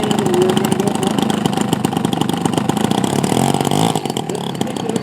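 A single-engine aircraft engine runs up loudly and steadily at Phillipsburg Airport during a charity fundraiser, a close, continuous droning rumble with a slight pitch shift near the end and no talking.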